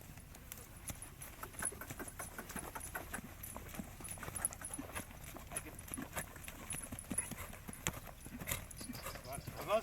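Horse trotting during a riding lesson on emergency stopping, a faint, steady clip-clop of hooves under continuous talk, with light jingling of tack.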